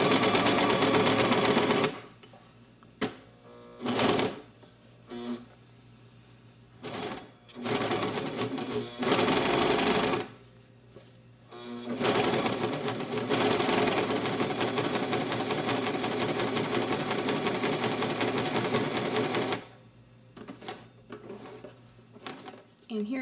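A serger with a clear foot stitching a cover hem, running in long steady mechanical whirring bursts that start and stop several times, loud and close.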